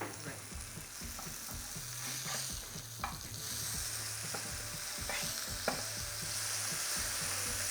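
Beef burger patties in a frying pan sizzle steadily and loudly while a spatula scrapes and taps the pan with an irregular rhythm during flipping, with no talking.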